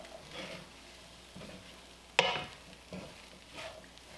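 Vegan fried rice with tofu is stirred in a pan with the flame turned off, giving soft scraping and gentle sizzling, with one sharp clack of the utensil on the pan midway. No one speaks.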